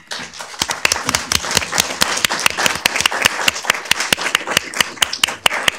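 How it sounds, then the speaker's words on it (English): Applause at a Downey city council meeting: a modest group claps in distinct, fairly regular strokes, close and crisp, steady for several seconds with no talk over it. "Can we give him a round of applause?"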